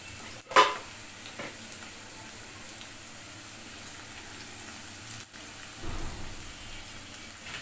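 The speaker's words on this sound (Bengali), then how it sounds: "পেঁয়াজ, রসুন, শুকনো মরিচ সব একসঙ্গে ব্রাউন করে ভেজে নিব" Chopped onion, garlic and dried red chillies fry together in a pan until browned, a soft, quiet sizzle running steadily underneath, broken by a sharp utensil knock early on and a brief stirring scrape near the end.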